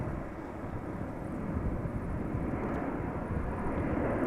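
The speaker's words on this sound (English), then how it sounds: "another heavy took off from center" KLM Airbus A330-200, seventeen years old, taking off at Amsterdam Schiphol: a broad, continuous jet roar that swells slightly as it goes on, heard from a distance.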